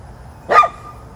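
One short, sharp dog bark at a yard sale rings out against quiet background hiss.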